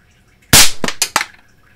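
A Crosman air pistol fires a pellet with one sharp, loud crack, followed by a couple of quick, quieter impact or rattle sounds, close up and without speech.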